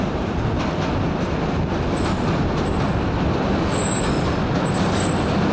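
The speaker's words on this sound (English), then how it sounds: "Here comes a subway in from Coney Island." A New York subway train comes in from Coney Island with a loud, continuous rumble and rattle close by, holding steady throughout with faint high squeals over the top.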